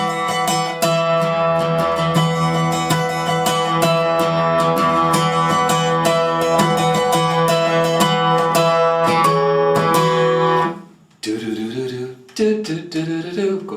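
Acoustic guitar plays the final interlude of a song, a full, steady strummed and picked passage ringing alone for about ten seconds, then a pause and a few quieter plucked notes near the end.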